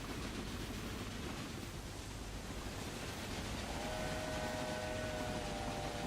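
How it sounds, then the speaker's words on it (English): Trains run along a line in the video game Railway Empire, a steady broadband rumble of rolling wagons that fills the whole stretch, with a sustained horn-like tone joining in toward the end. "how fast these trains are rocketing down this line"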